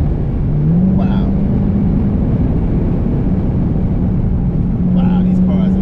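A 2020 Dodge Charger Daytona Hellcat Widebody sweeping through a big curve on a track, heard from inside as a steady loud engine drone and road roar, with faint voices briefly underneath.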